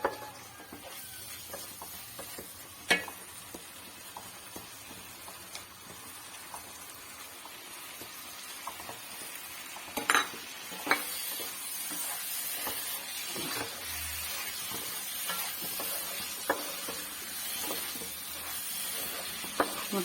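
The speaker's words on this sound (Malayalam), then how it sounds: "നമുക്കിനി മുട്ട വറക്കിയിടാം." Eggs frying in a pan for a Kerala-style egg roast, over onions already sautéed, give a soft, steady sizzle through the whole stretch with scattered faint pops and light clatter, close and fairly quiet, with no talking.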